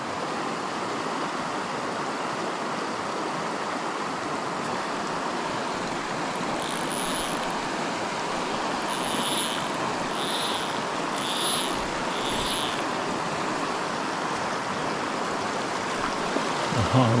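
River water flowing steadily in a small pool along a road trip through northern British Columbia and the Yukon, a broad constant rush with a few faint higher splashes, heard alone throughout.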